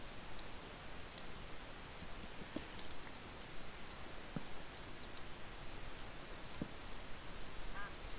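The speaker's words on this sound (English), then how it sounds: "Yeah, I guess that is a duck noise." A faint duck quack from the Minecraft video game, brief and soft, sits among quiet, scattered mouse and keyboard clicks in an otherwise hushed background.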